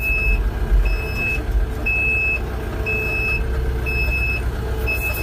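Backup alarm on an RK 74 tractor on a snowy day, sounding as if inside the cab: evenly spaced single beeps, about one per second, over a steady low engine rumble.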